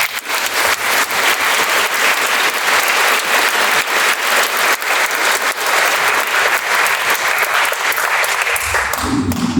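Sustained, loud crowd applause for police officers at a Sea of Youth 2025 honoring ceremony, dense clapping filling the room for several seconds before tapering off at the end.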